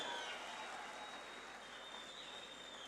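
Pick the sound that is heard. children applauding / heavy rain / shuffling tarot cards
children applauding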